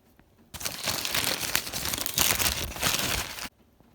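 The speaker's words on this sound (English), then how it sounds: "Next up, we're unwrapping the sausage grilled breakfast burrito." Foil wrapper crinkling and tearing open around a Taco Bell sausage grilled breakfast burrito, a continuous three-second burst of close, dense rustling that starts and stops abruptly.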